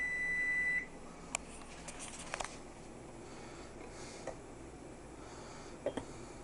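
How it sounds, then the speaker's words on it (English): An electronic beeper sounds a steady high tone at the start, then cuts off, leaving faint scattered clicks and low room noise. "Beeper's going off."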